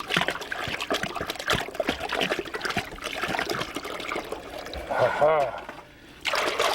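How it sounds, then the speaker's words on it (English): Water trickles and splashes as it is poured into a gold pan outdoors, an uneven run of gurgles and drips under someone talking, with a brief lull near the end before the splashing resumes. "Now, I ain't gonna pour all this in there."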